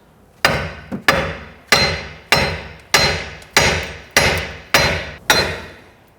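A hammer strikes the steering knuckle of a 1992-1996 Toyota Camry nine times in a steady rhythm, each blow a sharp, loud metallic crack that decays quickly. No one speaks.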